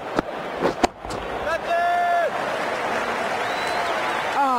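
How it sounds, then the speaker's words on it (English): A stadium crowd in a cricket video game simulation cheers in a sustained, loud wash of noise after a few sharp hits and whistle-like tones, holding steady to the end. "The crowd are loving this."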